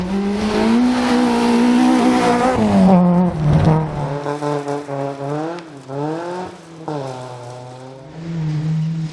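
A rally car on a stage of the Malcolm Wilson Rally in the BTRDA 1400 championship, its engine loud and close, revving through rising and falling gear sweeps and holding a sustained drone, with no voices.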